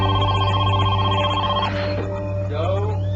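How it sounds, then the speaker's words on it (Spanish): A telephone rings loudly with a sustained electronic bell tone that breaks off partway through. A steady hum and muffled background sound sit underneath. "sonó el teléfono"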